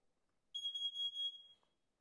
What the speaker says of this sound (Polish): No i chwilka minęła i złapał czujnik CO.